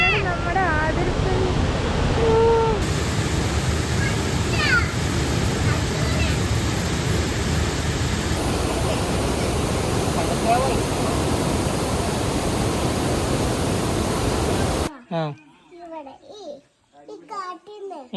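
The Athirappilly waterfall gives off a steady, dense roar of rushing water for about fifteen seconds while someone talks over it. The roar then cuts away and only voices remain.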